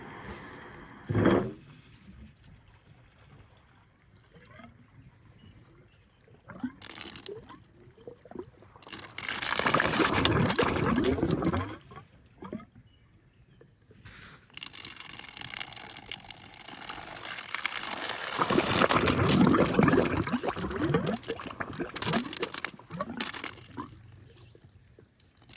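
Water drains and flows from a leak at a homestead, close by. It gushes in two long surges with quieter trickling and gurgling in between.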